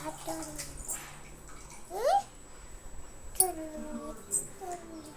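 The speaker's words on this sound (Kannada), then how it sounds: "ನೀಟಾಗಿ ವಾಶ್ ಮಾಡ್ಕೊಳ್ತಾ ಇದ್ದೀನಿ" Dill leaves being washed in water: quiet splashing and swishing, with brief gurgles and a faint voice in the background.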